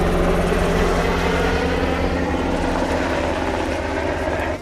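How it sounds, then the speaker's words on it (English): A helicopter flies over, a loud steady engine and rotor drone that fills the clip and slowly eases toward the end. "A helicopter flies over."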